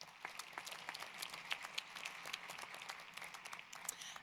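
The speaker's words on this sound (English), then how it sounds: "One more round of applause for all of our All-Americans." An audience at a university athletics graduation celebration claps for academic All-American student athletes, a moderate, scattered applause of many hands with no voices over it.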